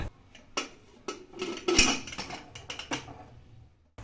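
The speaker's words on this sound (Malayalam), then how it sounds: "ഇനി കുക്കർ ഒന്ന് മൂടി വയ്ക്കാം" A few sharp metallic clanks and clatters of a pressure cooker lid being handled and set in place, close by, separated by short quiet gaps.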